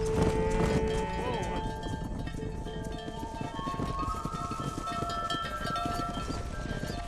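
Cattle low repeatedly during a Red Dead Redemption cattle drive, several overlapping moos close by over a steady bed of hoofbeats and movement.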